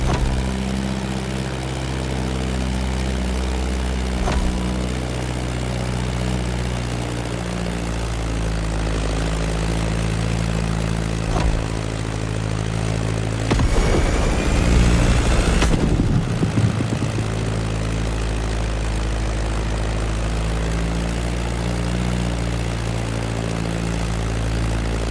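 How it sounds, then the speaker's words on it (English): A Beechcraft Staggerwing biplane drones through the air with a continuous, loud radial-engine hum, and partway through a brief rushing swell passes as it flies close by. "Beechcraft Stagger Wing is truly a beautiful piece, isn't it? And a great choice for that flight."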